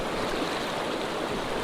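Small mountain creek flowing steadily, a close, constant broadband rush of water at fairly high level with no breaks and no speech.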